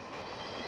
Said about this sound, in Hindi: महाराजा एक्सप्रेस है ये तो